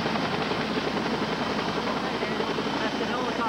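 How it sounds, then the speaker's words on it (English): A landing helicopter roars steadily nearby at a rescue scene, its loud whirring engine and rotor noise unbroken throughout. "That's the helicopter landing right now"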